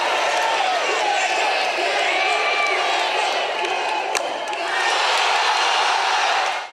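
Skateboarding crowd at a Battle at the Berrics game of SKATE reacting to a trick attempt, a dense, loud wash of shouting and cheering that swells again near the end, with a voice talking over it.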